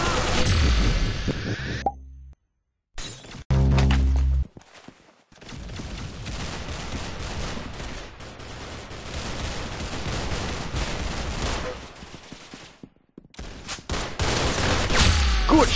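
Gunfire in the Roblox shooter Arsenal: loud bursts of shots with abrupt cuts and gaps, a long stretch of rapid, dense firing, and short sharp pops near the start and end.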